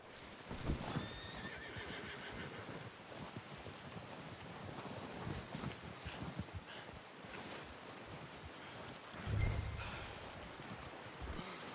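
A horse whinnies and snorts near the listener in the video game Red Dead Redemption 2, hooves clopping steadily beneath, with a gusting outdoor wind throughout.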